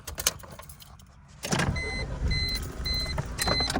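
A 1989 Toyota Camry LE starts up: a few clicks and near silence, then the engine catches and settles into a steady idle close by, with a repeating chime sounding over the running engine.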